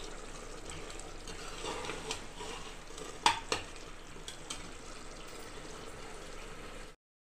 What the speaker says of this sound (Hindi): अब इसको हम भूनेंगे, बहुत ही मोटा मोटा कीमा है।